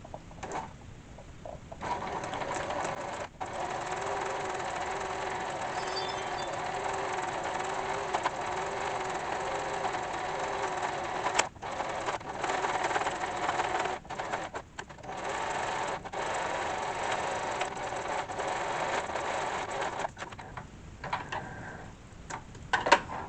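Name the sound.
Silver Crest sewing machine stitching zigzag embroidery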